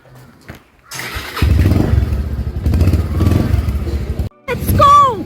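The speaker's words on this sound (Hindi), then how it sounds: "अपना बाइक रेडी है, चलते हैं हम।" A motorcycle, readied for a ride toward a mountain trek, is started with clunks and a thud before the engine catches and idles loudly up close. Brief voices and a whistling tone follow near the end.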